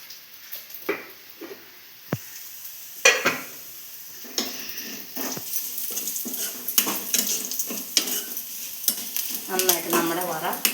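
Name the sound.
frying dried red chillies and curry leaves in oil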